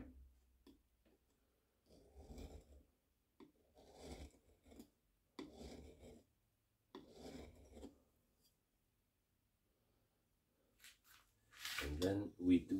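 In a gunmaker's workshop, a grindstone sharpens the inner side of a large hollow gouge. Several separate rasping strokes come with quiet pauses between them, close by, ending in a longer, louder burst of grinding.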